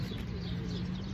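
Pet pigeons coo in a low, soft murmur, close by and brief, with a faint background hum.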